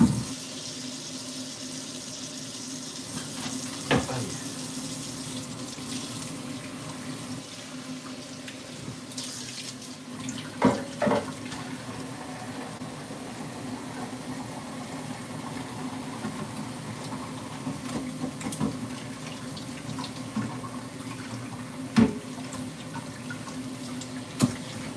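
Tap water runs steadily into a sink as food is rinsed underneath, a constant close rush broken by occasional knocks and clinks of handling.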